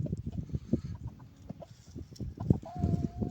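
A young rooster, a bird of this year, clucks in a quick irregular series of close, moderately loud calls with some farmyard background, no talking.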